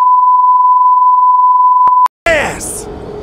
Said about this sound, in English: Let's see if that beep button works.